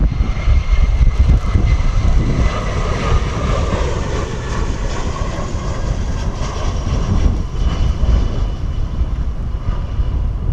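EasyJet airliner landing at Bristol Airport in gusty wind gives a loud, steady jet engine roar that persists throughout, mixed with wind rumble on the microphone.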